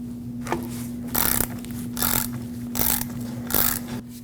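A 17mm wrench ratchets on the rear shock mounting nut of a 2020-2027 Toyota Corolla; four or five bursts of close, rapid clicking come at a regular pace, separated by short pauses, with no voices.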